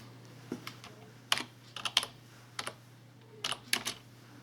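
Typing on a computer keyboard in a quiet room: a few sparse, separate keystroke clicks, then short clustered bursts of taps, close and fairly soft over a steady low hum.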